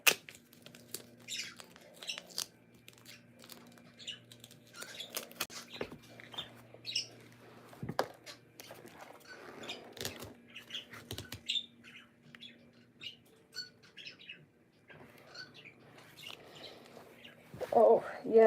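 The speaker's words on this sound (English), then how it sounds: "the bird is being a little squeaky in the background" A pet bird gives scattered, faint high chirps and squeaks in the background of an indoor room, intermittent over a long stretch, with people talking throughout and a louder burst near the end.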